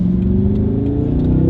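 A powerful luxury performance car's engine pulls hard under acceleration, a loud, steady rising growl that fills the whole moment with no speech over it.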